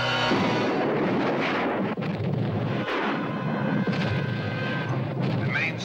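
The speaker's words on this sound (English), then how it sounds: "The main storage tank of the Japan Oil Company has exploded." An oil storage tank explodes in a 1971 Godzilla monster film, a loud sustained rumbling roar with crackling debris that fills the whole span, with a second surge midway and faint voices in the mix.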